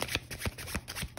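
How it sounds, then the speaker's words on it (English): Tarot cards are shuffled by hand in a few quick riffling bursts, close and fairly soft, with no speech. "I'm being told to pull 5 cards for you guys. So I'm going to shuffle a little bit."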